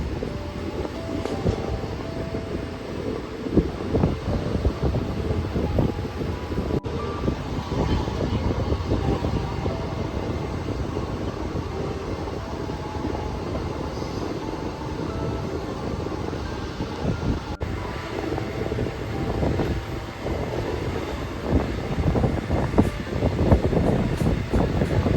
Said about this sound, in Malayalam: അങ്ങനെ ട്രെയിൻ ഇതാ ഭാരതപ്പുഴയുടെ അടുത്തെത്തി